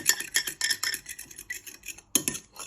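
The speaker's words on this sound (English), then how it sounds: "you're just finishing off whisking your eggs like that" Eggs whisked in a mixing bowl while making a rocky road cake batter, with a run of rhythmic metallic clinks and scrapes in quick bursts, close and fairly loud, no talking.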